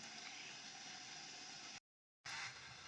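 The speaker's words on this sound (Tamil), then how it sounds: "தண்ணி இந்த மாதிரி சூடு பண்ணிக்கோங்க." Water heating in a pan before raw banana slices go in to fry, giving a steady hissing, near-boiling rush that cuts out briefly and resumes.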